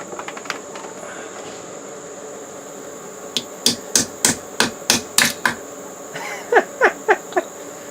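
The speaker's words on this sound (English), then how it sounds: "Now we will try with the printed hammer." A 3D printed plastic hammer striking repeatedly, about eight sharp, evenly spaced knocks followed by three more after a short pause, close, over a steady background whine.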